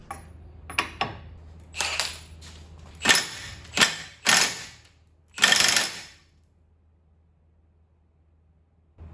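A power tool removes the castle nut from the CV axle of a 1998 Toyota RAV4 in a string of loud, buzzing bursts, several brief and a few longer, followed by quiet.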